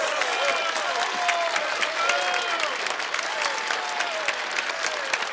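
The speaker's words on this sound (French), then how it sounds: "On les encourage, ouais! On les applaudit très fort." An audience applauds two singers as they are introduced at a live music venue, sustained, energetic clapping from a fairly close crowd with scattered whoops over it.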